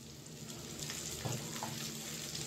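Spiny gourd (kasarakayalu) pieces sizzle steadily in a pan with oil, a close, continuous frying hiss with faint stirring scrapes and no voices.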